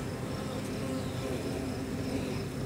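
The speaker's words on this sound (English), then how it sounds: "But I got bunch of bees on the bottom there." Steady, dense buzzing of many honey bees close by at a hive, a continuous low drone with no pauses or voices.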